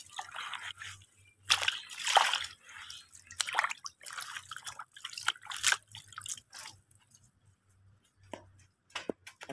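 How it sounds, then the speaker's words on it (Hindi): Fresh mint leaves being rinsed by hand in water to clear away soil, giving irregular splashes, drips and trickles at close range with brief pauses between bursts and no talk. "बहुत अच्छे से इसको धो रही हैं"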